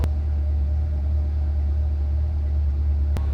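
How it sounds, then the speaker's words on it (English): A wrecked Chevrolet Corvette C8 idles with a low, steady rumble throughout, a constant close engine drone with one brief click near the start and another near the end. "This is the longest I've let this car idle."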